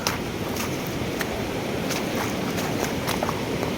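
Steady footsteps in HI-TEC Fuse Trek hiking shoes squelch and crunch across wet ground, a regular walking rhythm of soft thuds over constant outdoor rushing noise.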